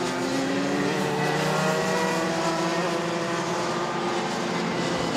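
Racing karts in a MAX Novice qualifying session at Mizunami circuit, a steady loud wash of engine drone with rising and falling harmonic whines from several karts at a distance, continuous throughout with no voices.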